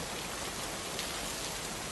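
Heavy rain pours in a dense, even hiss of countless drops striking surfaces, steady and close throughout with no voices.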